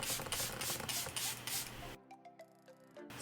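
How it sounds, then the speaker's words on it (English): Milani Fruit Fetish setting spray in Dragon Fruit Peach misting from a pump bottle, a close, loud hiss lasting about two seconds, followed by faint clicks and handling sounds. "I'm going to be using one of the Fruit Fetish sprays from Milani's collection in the scent Dragon Fruit"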